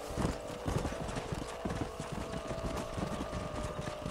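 Horses' hooves clip-clop steadily through Red Dead Redemption, a continuous rhythmic trotting of several animals at moderate loudness, with a faint whinny and no talk over it.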